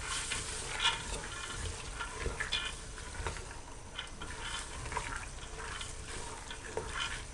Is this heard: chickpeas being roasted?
yes